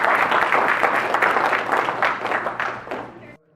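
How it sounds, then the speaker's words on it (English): A crowd at a Kitsap Patriots event gives a round of applause, thick continuous clapping with some voices mixed in, fading and stopping abruptly just before the end. "Give him a round of applause again."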